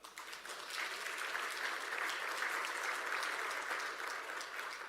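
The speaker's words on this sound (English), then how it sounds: "can you clap?" An audience at a political conference claps together, a sustained even burst of applause that swells and holds for several seconds before easing slightly.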